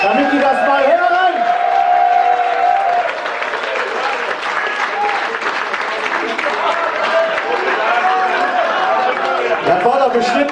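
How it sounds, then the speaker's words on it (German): Loud, sustained audience applause fills the old Peters Brauhaus, a brewery in Cologne's old town, with dense crowd clapping and voices mixed in throughout. "wenn wir jetzt einen riesengroßen und tosenden Applaus in die Küche schicken könnten"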